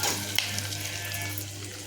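Onions frying in oil in a pan, a steady low sizzle running throughout with a faint clink near the start and no talking.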